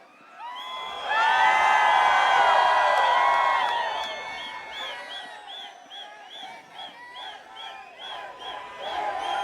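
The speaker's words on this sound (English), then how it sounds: "Can I hear you scream too?" A live crowd at the Motoverse 2023 motorcycle festival screams and cheers loudly for about three seconds right after being urged on, then fades into scattered whoops and calls while distant amplified voices and music continue.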